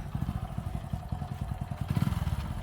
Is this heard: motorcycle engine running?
yes